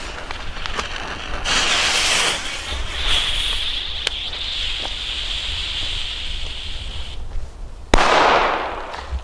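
Firecrackers from a WECO Atomic Pack assortment burst outdoors with a hissing, crackling rush and scattered sharp pops, then one loud close bang near the end, with wind noise throughout.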